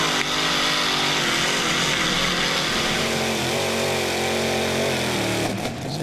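The modified pulling tractor First Choice roars at full power during a pull at the 2014 Eurocup tractor pulling in Brande, Denmark, a loud sustained engine howl with wavering pitch that briefly dips near the end.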